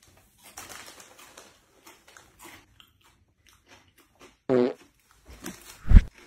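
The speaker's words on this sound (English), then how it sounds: "What is with the farting shit?" Short, crude fart noises from a comedy clip: a few abrupt, loud bursts spaced apart, with sparse quiet thumps and rustles in between and no talking.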